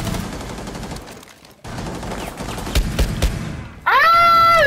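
Rapid video-game gunfire on PlayStation 4, a dense burst of shots with a loud electronic whine near the end, no talk over it.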